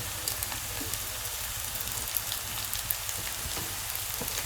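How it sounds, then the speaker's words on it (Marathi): Soft, steady sizzling of tomatoes added to hot oil tempering on a wood-fired stove, a continuous frying hiss with scattered small crackles, heard close up. "इथे आपण टाकत आहोत टोमॅटो टोमॅटो गेला फोडणीमध्ये"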